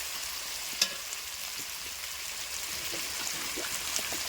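Potatoes fry with salt and turmeric in a pan, giving a soft, steady sizzle at low level, with one brief clink of a utensil near the start.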